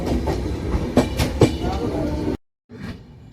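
A passenger train rolls along the rails near Ayodhya, a steady close rumble with rhythmic wheel clatter, briefly cutting out before resuming near the end.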